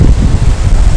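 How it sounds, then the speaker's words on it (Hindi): Wind gusting on a mountain roadside during a motorcycle tour from Chilas toward Besham on the way to Khunjerab Pass, a steady low rumble of moderate strength with no one speaking. "यहाँ भी हवा चल रही है, लेकिन इतनी तेज़ नहीं है।"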